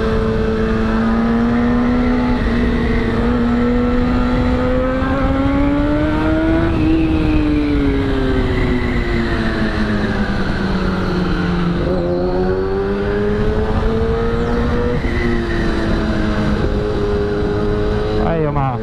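A motorcycle rides through heavy rush-hour traffic, its engine droning loud and close with rising and falling revs throughout while someone talks over it.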